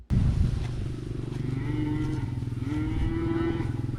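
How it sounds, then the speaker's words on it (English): Cattle low repeatedly in a freshly mowed pasture, with several overlapping deep moos that rise and hold, close and loud, filling the scene with no talking. "I just love seeing cows in their new pasture."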